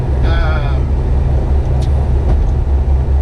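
Mitsubishi Galant VR-4 with a competition twin disk clutch under acceleration. A loud, steady engine drone runs throughout, with a brief voice speaking early on and no clear break in power between gears.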